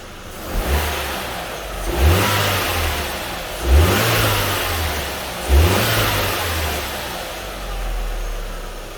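2004 Audi A4 1.8T fitted with an 034Motorsport diverter valve, revved in three distinct blips that each rise and fall back to idle, close and moderately loud.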